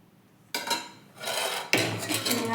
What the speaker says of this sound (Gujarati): હવે આપણે આનું વાટકીમાં લઈ લઈશું